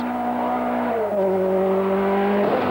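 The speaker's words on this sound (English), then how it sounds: "The Peugeot still looking and sounding undramatic as it shoots off down the stage." Peugeot rally car accelerating away down a stage at the 1000 Lakes Rally, its engine note held steady, then dropping and climbing again through gear changes, loud and close with no talk over it.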